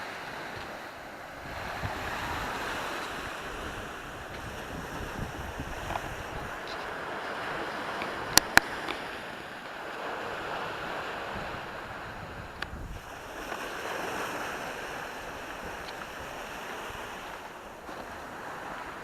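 Waves washing steadily onto a private beach at Alanya, a soft continuous surf with wind noise across the microphone, fairly quiet and uninterrupted, with a couple of small clicks partway through.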